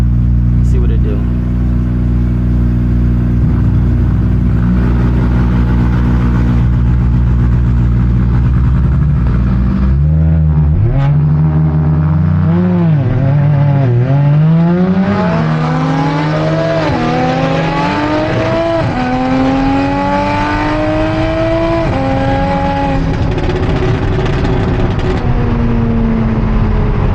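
A single-turbo BMW N54 car idles loudly at a drag strip, then launches and accelerates hard through several gear changes, the engine note climbing repeatedly and growing louder and rougher across a long run.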